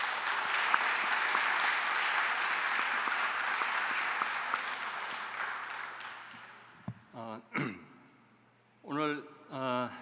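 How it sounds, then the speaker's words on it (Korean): Loud, dense audience applause at a World Peace Day ceremony, sustained for about six seconds before fading out, followed by a few brief spoken phrases. "우리 다 함께 한반도의 그 미래를 위해서 큰 성원의 박수를 한번 치고 시작을"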